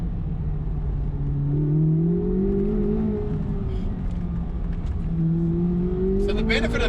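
A sports car engine pulls hard toward redline, its pitch sweeping steadily upward through two long, loud accelerations with a short break between them.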